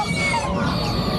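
A busy flock of turkeys gobbling and clucking over one another, close by and continuous, with general noise from a livestock market underneath.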